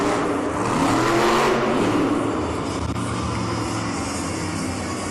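A monster truck named Sparkle Smash roars through a speed lap on an arena track at a Monster Jam event in Kansas City, its engine loud and rumbling with a surge in revs before settling into a sustained drone.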